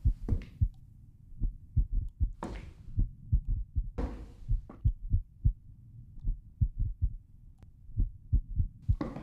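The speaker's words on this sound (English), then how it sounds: "I'm assuming that's my heartbeat" Steady thumping heartbeat in a scary horror video game, a strong close double-beat pulse repeating throughout, with a few brief sharper clicks and noises layered over it.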